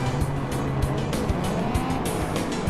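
Subaru WRX Super Touring rally car in the Gran Turismo 4 racing game, a steady droning engine note held close and loud, with brief tire squeal and skid noise breaking in now and then.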